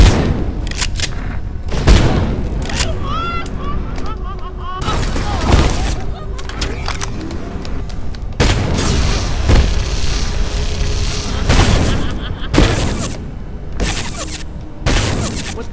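Shotgun blasts in the survival game Abiotic Factor, loud broadband bangs repeating irregularly through a busy in-game soundscape, with a voice briefly talking between shots.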